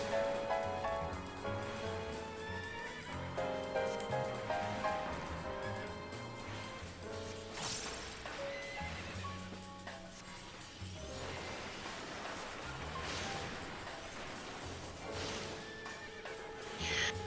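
An Evil Pegasus mount in Final Fantasy XIV neighs and whinnies repeatedly over game music, with clip-clop hoof sounds, loud and continuous throughout.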